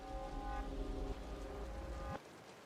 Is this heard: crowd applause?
no